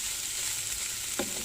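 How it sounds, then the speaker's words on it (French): Onions fry in a pan while camping in a motorhome, a steady close sizzle and hiss with one brief utensil clatter near the end. "mes oignons ils commencent à bien colorer"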